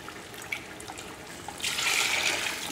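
Water is poured into mutton biryani masala in a cooking pot, a soft splash followed by a steady, brighter pouring stream that swells toward the end, close and alone.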